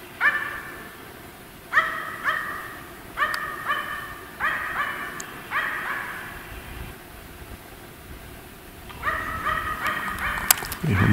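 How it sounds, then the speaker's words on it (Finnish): A Finnish Spitz barks at a capercaillie in repeated bursts at a moderate distance, with several bark series separated by short pauses and a quieter gap before a final flurry. "Ihan mukava, että koira haukkuu"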